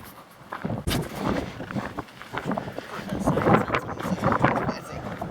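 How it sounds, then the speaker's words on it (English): Strong gusty wind buffets the microphone outdoors near a pond in the Nevada desert, rough low rumbling surges under a voice speaking. "God, this wind is horrible."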